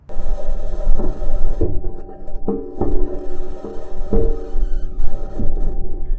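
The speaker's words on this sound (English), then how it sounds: "This is the sound of the rover driving on Mars." Grinding mechanical rumble with a steady hum and repeated clanks and scrapes as the Perseverance rover's metal wheels roll over rocks on Mars, close and fairly loud.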